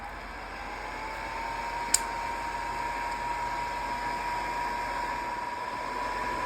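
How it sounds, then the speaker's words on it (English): Heat tool blowing hot air onto embossing powder on a pastel journal cover, a steady loud whooshing blower hum with a faint whine, running unbroken throughout with one sharp click. "this is actually a heat tool, and it makes the embossing go a lot faster"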